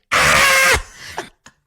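A woman lets out a single loud, sustained scream in a scene from Stephen King's 1986 film Maximum Overdrive, cutting off sharply and followed by a couple of brief faint gasps.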